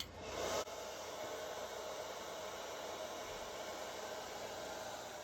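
A heat gun blows steadily on a wooden plank clamped to a model of HMS Thorn during planking of the wale, a constant even hiss with a brief louder burst at the start, heard alone.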